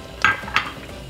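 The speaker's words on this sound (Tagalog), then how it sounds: "Haluin lang natin ito." A utensil stirs shrimp and string beans in coconut milk stew in a pot, giving two quick clinks against the pot about a third of a second apart over a quiet background.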